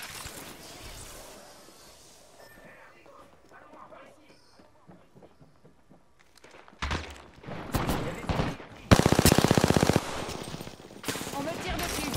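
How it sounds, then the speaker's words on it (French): Gunfire aimed at the player in a sci-fi shooter game, with bursts of rapid shots and loud blasts that break in after several seconds of quieter game sound and talk, the heaviest volley coming near the end. "On me tire dessus."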